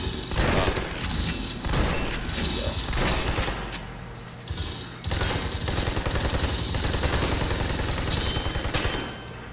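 Gunfire on a shooting range in the video game Army of Two: The Devil's Cartel: repeated rapid automatic bursts and heavy booms in clusters, loud and near.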